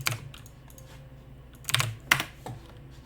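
A chat command is typed on a computer keyboard in a few close, crisp clusters of key clicks separated by quiet pauses.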